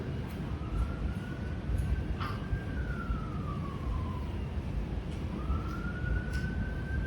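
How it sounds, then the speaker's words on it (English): Emergency vehicle sirens wail outside, rising and falling in long sweeping tones against a steady background rumble, with no talking over them. "I guess the sirens like to sing with us too."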